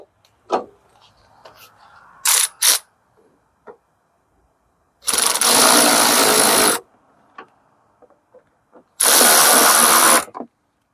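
Ratchet spinning and tightening bolts on a 2007 Chrysler 300 headlight, two long buzzing bursts close up, set among scattered clicks and taps from handling parts.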